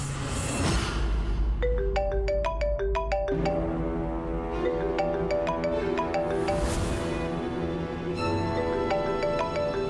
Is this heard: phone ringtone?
yes